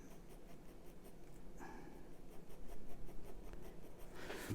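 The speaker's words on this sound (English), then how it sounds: "So back in with the 2H, again starting in the darkest zone and just gently feathering these tapered strokes out towards the lightest part of the zone that I'm drawing." A 2H pencil shades a drawing of the Statue of Liberty on paper, with continuous soft scratchy strokes close by in a steady rhythm that grows slightly louder toward the end.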